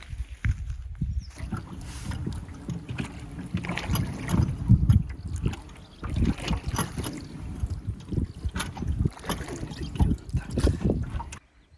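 Oars splash and knock as a rowboat is rowed across a lake on the Lapplandsleden hiking trail. Uneven, rhythmic strokes and water dribbling are heard close by for about twelve seconds, with no talking.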